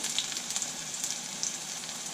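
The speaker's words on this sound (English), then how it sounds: "they've been shallow frying for 5 minutes on one side" Steady, faint sizzling of hash browns shallow frying in a pan, a soft continuous crackle with tiny pops and no voices.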